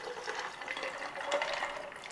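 Homemade melon and carrot juice pours steadily into a pitcher already holding ice, a continuous close splashing stream of liquid.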